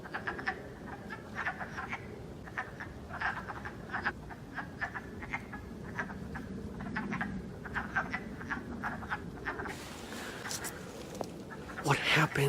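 Wood frogs calling in early spring, a dense chorus of rapid, duck-like clucking croaks that repeat steadily near and far, with a brief louder rustle near the end.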